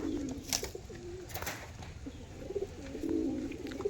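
Pigeons cooing softly in a loft, a few low rolling coos near the start and end over faint background noise.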